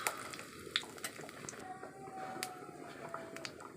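Whole cumin seeds and a bay leaf crackle in hot oil in a home kitchen for an egg curry, giving a soft, steady sizzle with scattered pops and clicks and no talk.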